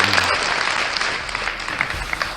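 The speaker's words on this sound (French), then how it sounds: "Pour ça, seulement des applaudissements et qu'on continue le show." Audience applause at a live music show, a dense wash of clapping filling the clip at steady, fairly loud level with no voices on top.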